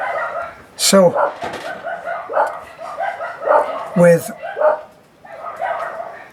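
Several dogs bark at night in short, loud bursts with a few yips, rising above steady talking that runs through the whole stretch.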